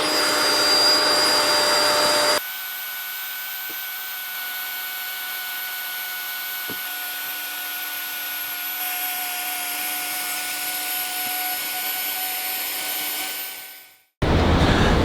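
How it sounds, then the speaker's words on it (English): Electric air pump powered by a portable solar generator inflating an air mattress at a campsite, a loud steady whine and whoosh held for about twelve seconds before winding down and stopping. "Just finished airing up the air mattress using the Rock Pals solar generator"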